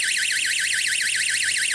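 A DSC WP8010-SP alarm system siren wails loudly and continuously in a rapid, steady up-and-down warble, close by with nothing else heard.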